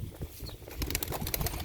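Wings flap in a rapid fluttering beat as a pigeon takes off, close by, over a rough background noise, at a pigeon market.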